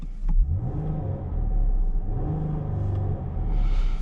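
A 2024 Chrysler Grand Caravan minivan engine is revved from inside the cabin, rising twice in smooth swells toward a soft limiter, a steady mid-pitched hum close and moderately loud, with no talking.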